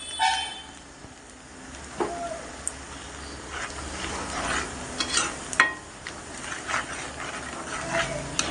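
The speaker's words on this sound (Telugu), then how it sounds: "మంచి వేగాలి ఫ్రెండ్స్." Onion fries and sizzles in a pan while being stirred, a steady hiss broken by scraping strokes and occasional clatter, close and moderately loud, with no talking.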